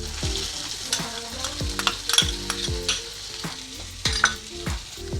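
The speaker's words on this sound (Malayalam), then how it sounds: "ഇതൊന്ന് നല്ലപോലെ നമുക്ക് വഴറ്റിയെടുക്കാം" Two large sliced onions sautéing in a pan, with steady sizzling and repeated clinks and scrapes of a spoon stirring against the metal.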